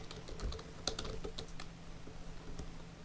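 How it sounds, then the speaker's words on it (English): Quick, light keystrokes on a computer keyboard entering a cheat code for the game Sons of the Forest, an irregular run of close clicks with a soft steady hum underneath. "Then type in cheat stick."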